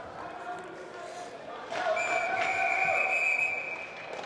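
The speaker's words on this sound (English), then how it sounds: "And some more whistles coming." Referee whistles sound at an ice hockey game in Hatfield Ice Arena, West Chester Golden Rams against Villanova Wildcats, as sustained shrill tones over an arena crowd murmur, with a commentator talking at times.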